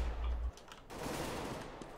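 Rapid bursts of video game gunfire during a competitive counter-terrorist round, a loud low burst at the start, then sustained dense crackling shots with no talk.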